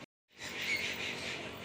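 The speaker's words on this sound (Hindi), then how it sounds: "ये चिड़ियों की आवाज़ सुनाई दे रही होगी ना।" Birds chirp and squeak around a village in the afternoon, a faint, thin chorus running continuously after a brief silence.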